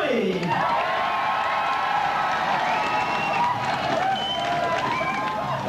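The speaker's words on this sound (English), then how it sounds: "Now you can clap your hands, stomp your feet, let out a cheer, you can fart and burp if you want to." A crowd at a comedy stage hypnotist show whoops, cheers and claps in a loud, sustained burst of noise, with shrill shouts rising above heavy rumbling that could be stomping feet.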